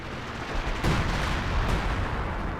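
Artillery barrage in the Company of Heroes 2 strategy game, a dense continuous rumble of gunfire and shelling with a sharp impact burst partway through and another near the end, fairly distant, no voices.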